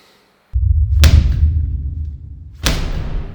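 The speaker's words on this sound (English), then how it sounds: "I've added in some extra slams for when the balls are going down." Two heavy, booming slam impacts of exercise balls hitting the ground in a cinematic fitness workout, each a sharp loud hit followed by a deep rumbling decay, spaced about a second and a half apart.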